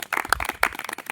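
A group claps hands in a short, brisk burst of uneven claps, close and fairly loud.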